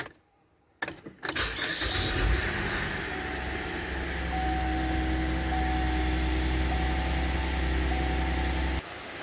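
A GMC 3.6L V6 cranks briefly and catches, then settles into a steady, loud idle that hums on evenly for several seconds before a slight drop at the end.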